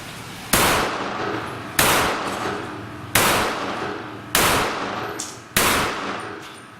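A Polish Radom P64 pistol fires a five-round accuracy group at an outdoor range, five loud sharp reports spaced about a second and a quarter apart, each followed by a short echoing decay.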